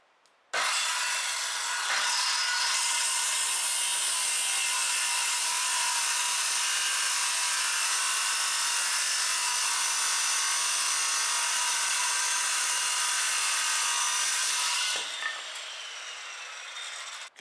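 Power saw cutting through a wooden boat trailer bunk, a steady loud rasping whine held for around fourteen seconds before tapering off, close and alone.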